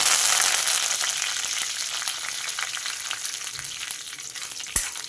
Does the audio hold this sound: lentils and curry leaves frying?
yes